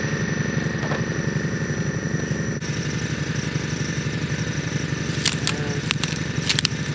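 Four-wheeler ATV engine running steadily in a field, a close, loud, continuous mid-pitched drone with a rapid pulsing rhythm and a few brief clicks and rattles near the end.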